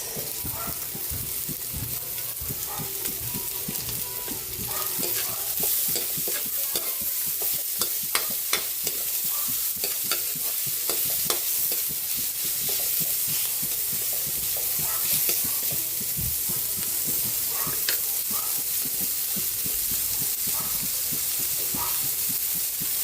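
Onion stir-fried in a pan for a chicken and tofu-pork dish, a constant loud sizzle broken by rapid, busy scraping and clacking of a spatula against the pan, with no speech.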